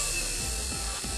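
A small electric motor in a regenerative acceleration setup whirs with a steady high-pitched hum that dips slightly as it comes under load, close and continuous with no talk.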